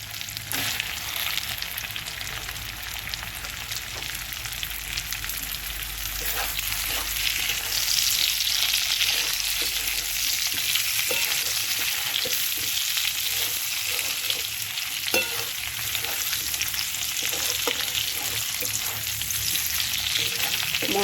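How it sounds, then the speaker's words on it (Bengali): Vegetables fry in oil and spice paste for Bengali shukto, giving a steady, close hiss and sizzle with occasional stirring clicks, with no talking. "এবার আমি সবজিগুলো ভেজে রেখেছিলাম ওগুলো দিয়ে দেবো"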